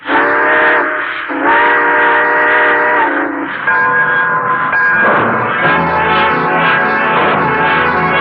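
A train whistle blows in long sustained chords, pausing and sounding again, with a low rumble of the train underneath as it pulls away.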